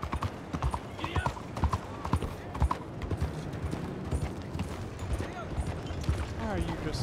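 A horse gallops in Red Dead Redemption 2, its hooves drumming in a fast, steady clip-clop for the whole stretch. Voices talk over it.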